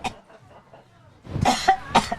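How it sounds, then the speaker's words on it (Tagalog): A mother coughs several times in short, close bursts in a domestic scene, each rough hack breaking the quiet after a faint stretch of low background sound. "Ma, ano ba yung ubo mo?"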